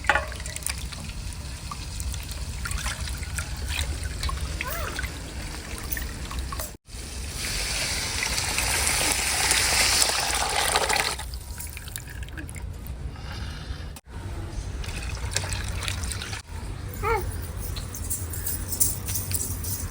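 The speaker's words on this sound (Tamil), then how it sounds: "நல்லா கரைச்சாச்சு அப்படியே இதை நம்ம இதில் ஊற்றிக்கலாம்" Dissolved liquid mixture being poured into a cooking pot for kuzhambu, a steady trickling, splashing pour in the middle stretch, close and fairly loud, with quieter kitchen handling before and after.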